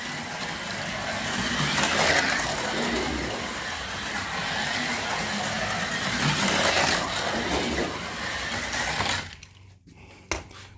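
Carrera Go 1:43 slot car whirring steadily around a plastic track under hard throttle through a corner, a continuous high motor whine for about nine seconds before cutting off, followed by a couple of brief clicks.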